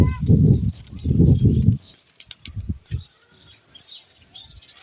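Pigeons coo in low, throaty bursts close by, several calls running together, then thinner scattered chirps and soft rustling at a lower level.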